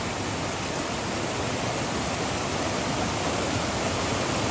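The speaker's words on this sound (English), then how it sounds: "That up ahead is the upper falls" Upper falls on a creek in the remote Snowbird Wilderness, Nantahala National Forest, North Carolina, pour in a steady, dense, loud rush of broadband water noise, close and unbroken with no voices.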